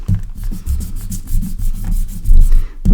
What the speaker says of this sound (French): Donc là, je gomme avec la gomme mie-de-pain.